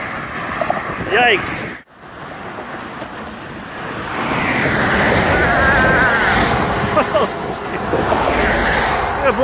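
Heavy 18-wheeler trucks roar past on a vibrating bridge over the Delaware River into New Jersey, with steady loud traffic rumble and gusting wind buffeting a nearby microphone, while someone speaks briefly.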